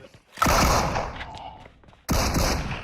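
Bursts of gunfire in the PUBG Mobile battle royale game: a loud volley that fades out, a short gap, then a second sharp burst, with no talk over it.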